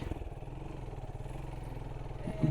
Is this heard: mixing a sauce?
no